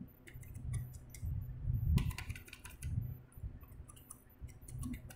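Keys tapped on a computer keyboard while a sentence is typed in a word processor, a run of quiet, uneven clicks over a low background hum.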